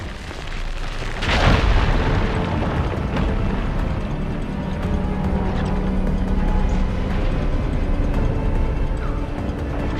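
Explosion in the Horizon Forbidden West video game as ignited firegleam blasts away rubble: one deep boom early on, then a low rumbling ambience lingering afterward.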